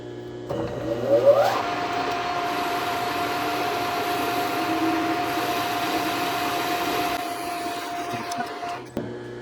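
A lathe parting off a speedometer drive part for a Muncie 4-speed transmission runs with a steady machining whine and cutting noise for several seconds. It stops sharply near the end.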